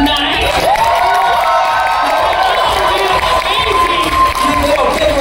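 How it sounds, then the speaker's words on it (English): Loud crowd cheering, whooping and clapping at a dance competition awards night, continuous and close throughout. "Give it up, big round of applause."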